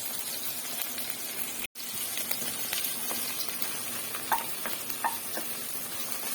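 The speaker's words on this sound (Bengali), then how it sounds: "চিংড়ি মাছটা বেশি ভাজতে নেই, এটা তোমরাও জানো, ভাজলে শক্ত হয়ে যাবে" Prawns frying in a pan give a steady, close sizzle with faint scraping and clicking from stirring, running unbroken apart from one brief dropout, with no talking.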